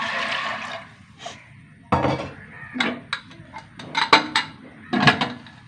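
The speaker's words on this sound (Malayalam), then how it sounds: "വെള്ളം ഒഴിക്കാം" Water splashes and pours into a metal pot, with clanks and knocks of cookware in short bursts between quieter moments.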